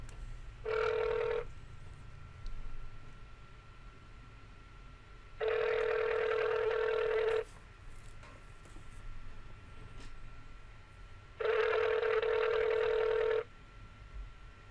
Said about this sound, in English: Guess nobody wants to answer the phone.